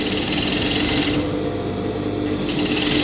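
A sewing machine runs continuously, stitching fabric for gathered pants. Its steady, loud mechanical whir and rapid needle chatter carry on alone for the whole stretch, with no talk over it.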